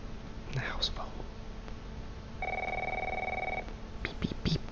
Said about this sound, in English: The house phone.